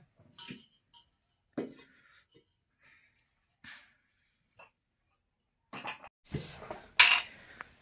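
A cooking pot set onto a home stove in a kitchen: sparse soft metallic clinks and taps spaced over several seconds, then a louder cluster of clattering near the end.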